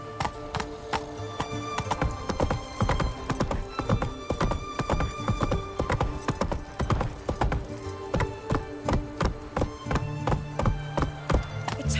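Hooves of Roach, a horse in The Witcher video game, clip-clopping in a steady, brisk rhythm close by, the clear, even footfalls carrying on throughout with an occasional snort or whinny.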